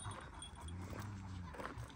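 A shepherd dog near a flock of sheep on a mountain gives short, faint barks and whines in the distance while someone talks over it.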